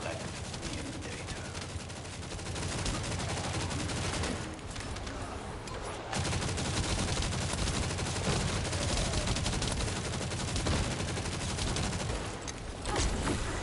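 Sustained gunfire from a gun in The First Descendant rattles in a dense, rapid stream, briefly easing before resuming loudly, with a voice talking faintly underneath.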